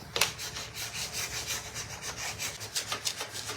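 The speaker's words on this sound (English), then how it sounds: "And we are going to apply our transfer. We're gonna burnish it in." A bee transfer being burnished onto a wooden cutting board, a steady rapid dry rubbing and scraping close to the microphone, with no talking.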